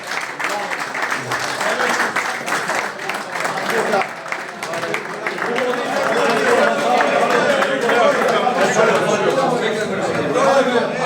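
Stadium or event-hall audience applauds a former footballer, steady crowd clapping and chatter mixed under someone talking over a microphone, growing slightly louder toward the end.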